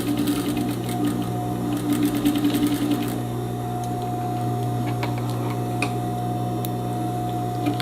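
A sewing machine runs continuously, backstitching at the waist of a straight skirt with a ruffle, giving a steady close mechanical whir with light rapid ticking throughout.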